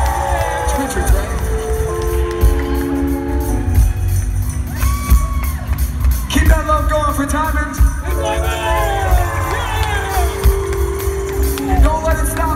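A concert crowd at a show in Charlotte, North Carolina, cheers and shouts loudly and continuously, with whoops rising over a dense roar of music and voices.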